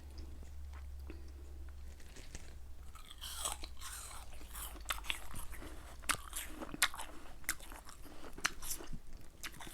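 Crunchy apple slices dipped in sweet fish sauce with shrimp paste are bitten and chewed up close, giving repeated sharp crunches and wet chewing over a low steady hum.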